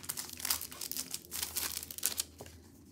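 Crinkly sticker sheets are handled up close, producing a quiet, irregular series of plastic crackles and rustles with no voices.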